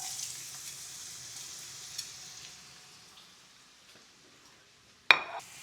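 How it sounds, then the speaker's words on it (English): Onion sautéing gently in oil for a rice dish, a soft, faint sizzle that gradually dies down, ending in a sharp metallic clink of a utensil against the pan. "while onion is being sauteed in oil"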